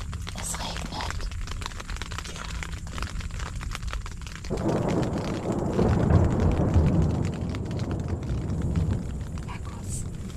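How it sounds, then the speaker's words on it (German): Steady rain falls at a campsite, with a deep rolling rumble of thunder swelling in about halfway through and lingering under the downpour to the end. "Es regnet."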